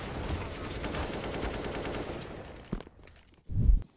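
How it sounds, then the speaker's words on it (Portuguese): Counter-Strike gameplay gunfire, a rapid dense burst of shots for over two seconds, then a pause and one more short loud shot burst. "o Henrique erra o primeiro tiro."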